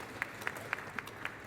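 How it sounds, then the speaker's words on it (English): A handful of sparse, distinct handclaps at a boxing press conference in Liverpool, about five quiet claps spaced unevenly over a low room murmur. "Can we get a round of applause for Thomas Stryber as well?"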